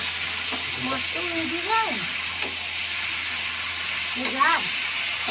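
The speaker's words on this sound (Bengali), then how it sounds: "মশলাটা দিয়ে একটু ভাজা ভাজা হোক।" A steady sizzle of spice paste made of garlic paste, ginger paste and tomato fries in a pan, with a voice speaking briefly over the hiss.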